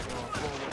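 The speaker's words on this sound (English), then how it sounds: "We're taking fire!" A short, dense burst of gunfire in Company of Heroes, loud and continuous, with a voice heard over the shots.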